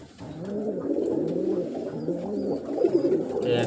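Pigeons coo in soft, rhythmic, throaty bursts close by, repeating several times in a quiet setting with no voices.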